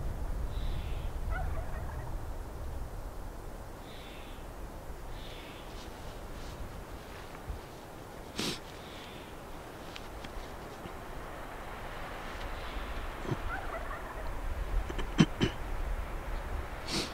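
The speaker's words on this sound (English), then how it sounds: "The gobbler's already woken up and he's gobbled a handful of times" A wild Merriam's turkey gobbler sounds off at dawn in New Mexico, several rattling gobbles spread across the stretch, fairly distant, over quiet outdoor ambience with a few faint bird calls and clicks.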